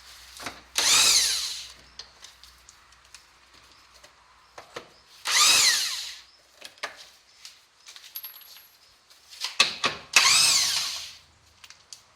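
Power tool spinning out bolts while an Infiniti lower front control arm is being replaced: three loud whirring bursts a few seconds apart, with clinks and rattles of metal parts between them.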